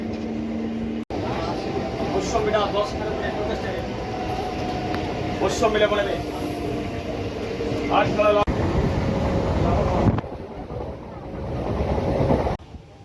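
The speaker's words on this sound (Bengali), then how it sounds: "পাঁশকুড়া থেকে মেদিনীপুর লোকাল ধরলাম খড়গপুর যাওয়ার উদ্দেশ্যে।" Local train running between Panskura and Medinipur heard from on board, a continuous rumble and rattle of carriages with wind buffeting, the level shifting abruptly a few times, and voices mixed in.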